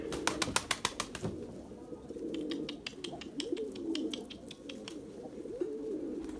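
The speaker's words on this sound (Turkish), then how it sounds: "Adı öten de Yavuz arkadaşlar şurada." A pigeon coos nearby in soft, low, repeated phrases, with some sharp clicks and faint bird chirps around it.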